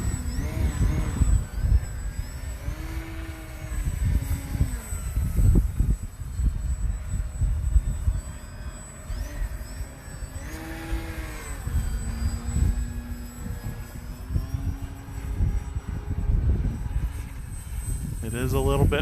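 A small propeller motor on a Mamba10 RC airplane whines steadily throughout, its pitch rising and falling as it passes, with wind buffeting on a windy day and occasional voices underneath.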